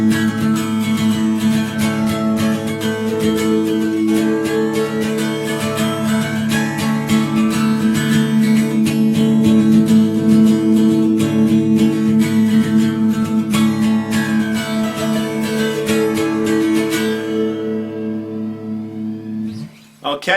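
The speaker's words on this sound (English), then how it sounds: "then it's going to be a clean tone on your amp, and if possible, try and add like a little bit of flanger" A clean-tone electric guitar run through a little flanger plays the intro of the song, with dense, continuous strummed chords and a shimmering swirl throughout, ringing out alone for about twenty seconds before cutting off abruptly.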